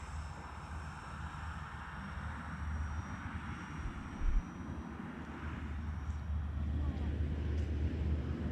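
Avios C-130 RC model airplane taking off, its electric engines droning steadily and building louder toward the end amid outdoor wind noise, heard at a moderate distance.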